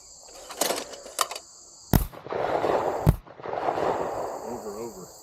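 Sharp, loud blasts from a Mossberg Silver Reserve shotgun firing at clay targets outdoors, several close reports with short decays, followed by a sustained rushing noise and faint chatter.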